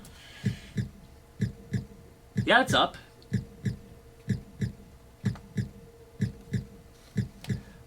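Steady heartbeat from a Turrican video game, a regular lub-dub pulse repeating about once a second throughout, with a brief burst of speech partway through.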